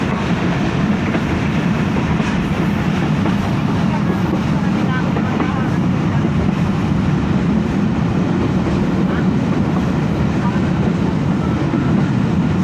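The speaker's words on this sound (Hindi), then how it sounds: "यहाँ पर स्टॉप है ट्रेन का।" Riding aboard the 14DN Awam Express passenger train in Pakistan, a constant loud rumble of wheels and car rattle with wind noise fills the whole stretch, holding steady without an obvious slowdown.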